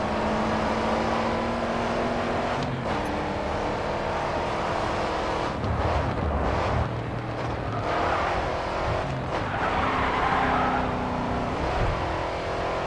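Race car engine in GRID 2 roaring loud and continuous as the car drifts through a corner and pulls past a rival, with revs dipping and climbing, tyre noise, and shifts midway.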